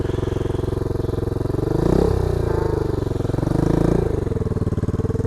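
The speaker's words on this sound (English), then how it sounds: "if you want to give it just a little bit of gas and then slowly let out on the clutch" Dirt bike engine running loud and close, a throbbing idle that swells into two brief revs as the clutch is eased out, then settles back.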